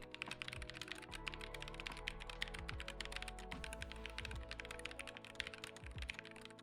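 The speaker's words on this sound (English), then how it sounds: "The linear switches still provide enough feedback that makes typing satisfying while also sounding pretty good." Fingers type rapidly on a NuPhy Air75 V2 low-profile keyboard with linear switches, a close, quiet, continuous stream of soft key clacks with occasional heavier thocks.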